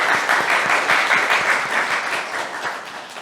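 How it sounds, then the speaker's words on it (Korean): A lecture audience applauds to welcome a visiting professor, with dense, continuous clapping from many hands that fades slightly toward the end. "오경식 교수님을 다 함께 큰 박수로 환영해 주시면 감사하겠습니다"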